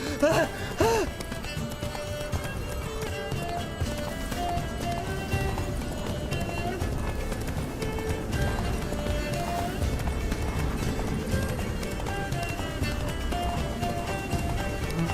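Rapid rhythmic hoofbeats of Geralt's horse Roach galloping in The Witcher 3: Blood and Wine, continuous clip-clop close up, with a snort or whinny near the start and voices heard over the run.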